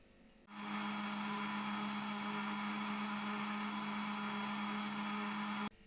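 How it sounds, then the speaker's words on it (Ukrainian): A blender motor starts abruptly and whirs at a steady, loud pitch for several seconds blending spinach and milk before cutting off. "Вливаю одну склянку молока і перебиваємо у чаші блендера"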